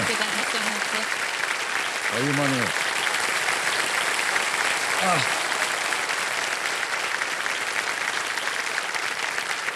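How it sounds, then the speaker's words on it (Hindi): Sustained studio-audience applause fills the Kaun Banega Crorepati set, a loud, even roar of clapping that continues throughout while a voice speaks briefly over it twice. "तो ताली बजती रहे इनके लिए।"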